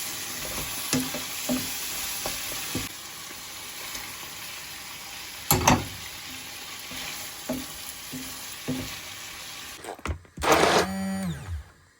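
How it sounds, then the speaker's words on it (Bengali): Chili, salt and a little turmeric fry in a pan, giving a steady sizzle with occasional louder stirring scrapes and clatters. Near the end a short, loud burst of sizzling stands alone with no talk. "মরিচ লবণ অল্প একটু হলুদ দিয়ে এটাকে এখন ফ্রাই করব"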